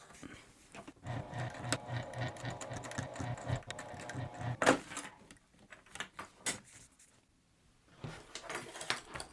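A sewing machine stitches webbing onto a hip bag in quick, steady mechanical bursts, pausing between runs, with handling clatter and no talking.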